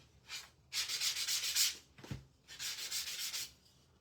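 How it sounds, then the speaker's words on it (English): Hand sanding of a small wood block for a spring lamb craft: a brief scratchy stroke, then two longer, steady rasping passes split by a soft knock, close and clear with no voice. "I'm going to go ahead and sand the other side, because I have not done that yet."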